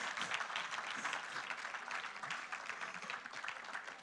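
Audience applause in a hall after a talk on end-times chronology, a steady, fairly distant wash of many hands clapping that holds evenly throughout with no voices over it.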